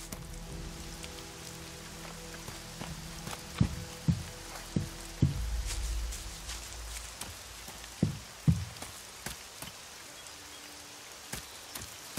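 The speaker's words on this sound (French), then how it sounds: "Avec la pluie qui tombe, c'est lugubre à souhait." Steady rain pours down in the video game Elex, a continuous hiss with scattered louder drips and thuds, heard alone without any talk.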